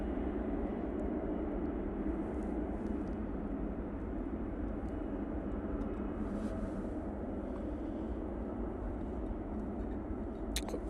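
A Hainan Airlines airliner vacating the runway at Manchester Airport on a cold morning, heard as a steady, distant jet engine rumble that holds constant throughout, with no talk.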